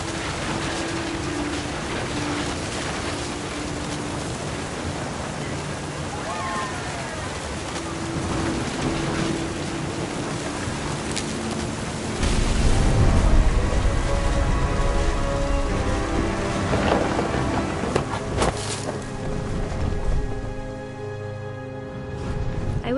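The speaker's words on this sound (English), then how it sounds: "Thunder sounded much too close and full of angry power." Thunderstorm with steady heavy rain in the video game What Remains of Edith Finch, a dense continuous downpour with low rumbling that swells louder midway and holds, washing over everything with no voices.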